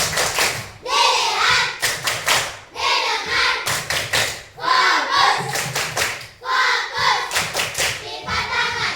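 Pupils in a coding lesson perform the rhythmic 'tepuk fokus' focus chant, chanting in unison between crisp patterned bursts of group clapping, repeated in several close, loud cycles.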